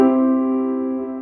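A single piano chord rings out and slowly fades, clear and close, with no other sounds; the sustain pedal is pressed late, leaving a gap.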